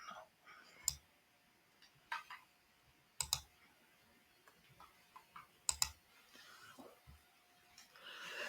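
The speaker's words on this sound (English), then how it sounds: "I can type this." Sparse, quiet key clicks from a computer keyboard come in irregular taps and small bursts as a question is typed, with faint background noise between strokes.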